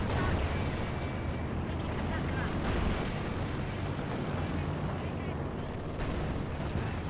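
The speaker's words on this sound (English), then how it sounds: "they're bombarding, and that is a full wipe there on Logan's guards" A dense, rumbling artillery barrage from heavy mortars and Katyusha rockets in Company of Heroes 2, a continuous roar of blasts with a commentator talking over it.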